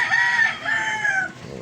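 Chickens at a Philippine market stall beside a fish section, a rooster crowing loudly in one long call followed by a second, with clucking fowl close by and no talking.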